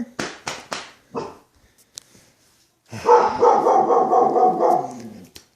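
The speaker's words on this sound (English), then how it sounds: "Stop barking at the neighbors." A dog barks several times in quick, sharp succession close by, then pauses before a longer stretch of rapid, continuous barking and yipping.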